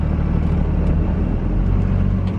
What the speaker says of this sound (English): I'm gonna put this thing in second gear and I'm gonna let off the clutch without any fuel, and you'll see that this thing just gives it fuel and goes